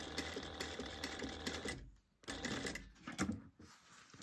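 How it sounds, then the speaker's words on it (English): A sewing machine stitches a bag in fast, steady bursts that stop and start. It drops briefly to near silence before running again in short runs, close by, with no talking over it. "And then sew across the front."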